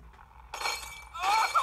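Glass shattering in the video game Happy Wheels: two bright, crashing breaks about half a second apart, each with a tinkling spray of shards, over a quiet background.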